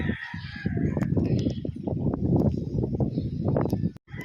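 Chickens and a rooster at a game farm, bound for shipment, crowing and clucking fairly close over a dense, steady din of farm noise with no talk.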